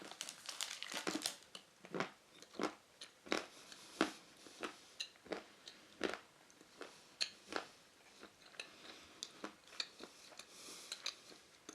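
Crisp crunching bites into a small piece of fairafric 72% dark chocolate, followed by a steady run of sharp, close chewing crackles and crinkles with no talking.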